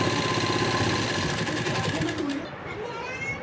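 A sewing machine stitches the waistband belt all the way around a salwar, a close, steady rhythmic whirr lasting about two and a half seconds before easing off.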